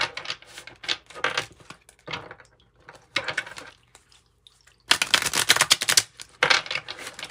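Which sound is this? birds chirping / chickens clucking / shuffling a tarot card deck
shuffling a tarot card deck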